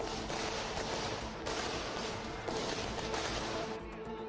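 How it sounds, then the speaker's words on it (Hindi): Firecrackers set off outside a house, a dense continuous crackle of rapid bursts filling the whole stretch at steady loudness, heard from a distance. "पटाखे चलाने लगे।"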